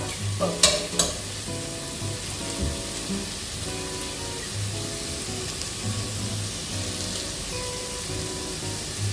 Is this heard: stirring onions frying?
yes